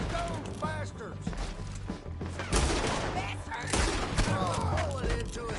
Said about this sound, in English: Let them have it, boys! Shoot those bastards!